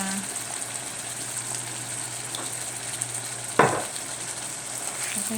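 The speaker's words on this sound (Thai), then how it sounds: "ค่อยๆคนให้มันเข้ากัน ก็เริ่มสุกแล้วนะคะ" Pickled bamboo shoots stir-fry in a pan with a constant low sizzle, a scrape of the spatula partway through, and faint background hum.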